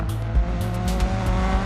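Rally car in the Dirt 4 video game, engine revving hard against the handbrake and launching off the start, a loud, steady, rhythmic engine drone with repeated rev pulses.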